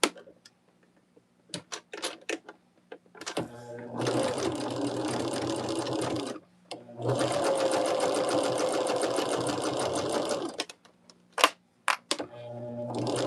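A sewing machine stitches a Jacob's Ladder quilt block in two sustained runs of rapid, even whirring, separated by short pauses and a few sharp clicks and taps at the start and end.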